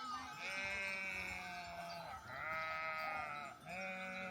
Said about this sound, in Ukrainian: Зараз йде процес загонки овець у кошару